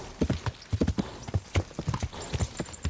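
Horse trotting along in Kingdom Come: Deliverance, a steady, close clip-clop of hooves in an even rhythm, with no voices.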